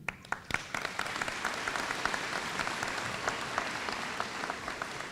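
Convocation ceremony audience gives a steady round of applause, dense clapping from many hands filling the hall at moderate distance.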